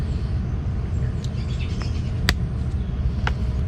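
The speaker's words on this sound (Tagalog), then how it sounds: "Maraming mga ibon no." Several birds chirp in short, scattered calls over a low, steady outdoor rumble in a dry area of trees and fallen leaves, the tweets fairly distant and well apart.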